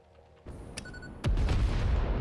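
A nuclear explosion in the factory-building game Satisfactory: a sudden deep boom with a sharp crack, then a louder second blast about a second later that rolls into a sustained low roar, heard alone and close.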